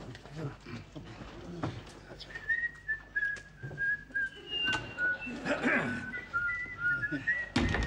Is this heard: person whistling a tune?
yes